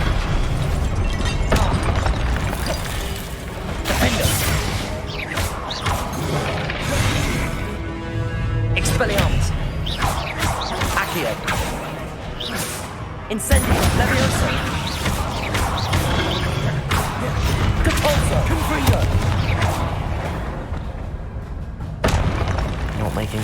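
Spell effects from the Hogwarts Legacy video game, among them Incendio and Confringo, sounding as repeated loud booms, fiery whooshes and crashing blasts that go on without a break, with a voice speaking over much of it.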